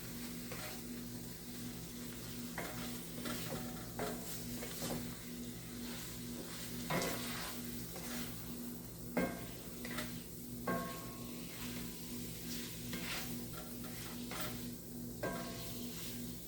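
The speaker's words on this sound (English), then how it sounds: "So we're just going to mix this all up into the meat." Hashbrown casserole ingredients mixed into meat in a pan, a steady sizzle with scattered scraping and stirring knocks of a utensil against the pan, close and continuous with no talking.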